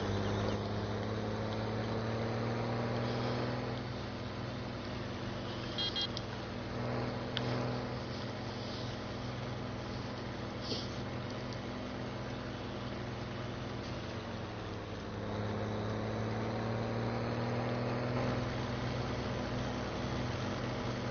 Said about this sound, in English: Very nice tractor. I love this thing. I love the way it sounds.